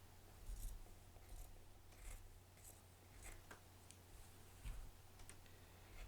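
Scissors snipping fabric close to a stitching line while quilting, a series of small crisp cuts spaced irregularly over a steady low hum, close and quiet with no voices.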